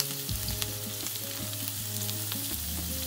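Baby corn and garlic fry in a pan with a steady close sizzle and a few faint scrapes of stirring, with no talking.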